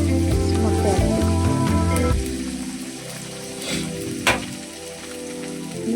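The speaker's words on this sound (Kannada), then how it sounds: "ನೀರು ಬೇಡ. ಫ್ರೈ ಮಾಡಬೇಕು." Eggs and drumstick leaves fry in a hot pan, a steady sizzle that runs continuously throughout, with a brief sharper crackle near the end; background music plays beneath.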